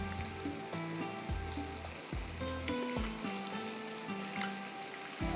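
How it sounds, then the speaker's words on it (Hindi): Rice frying in butter in an open pot, a busy crackling sizzle with stirring scrapes and irregular pops, close up and steady, with no voices. "अब इसको इसलिए मैंने खुला बर्तन लिया ताकि इसके अंदर मैं इसको फ्राई कर लूँगी।"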